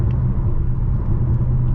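A 2020 Dodge Challenger Scat Pack Widebody rumbles with a steady, deep, close idle-like drone that holds level throughout, with no voices present.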